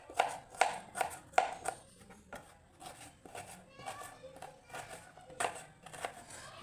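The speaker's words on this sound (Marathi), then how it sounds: "कांदा आहे ना खूप म्हणजे बारीक, एकदम बारीक चॉप करायचं आहे" A knife chops onion finely on a board in a home kitchen, with rapid, crisp taps in quick bursts that thin out into scattered cuts, while someone talks over it.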